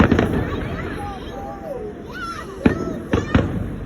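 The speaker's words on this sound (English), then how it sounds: "I just wanted to watch the fireworks because they were so fun." A fireworks display is heard from far away, with muffled booms and a few sharp cracks arriving in small clusters over a steady background, while people talk excitedly nearby.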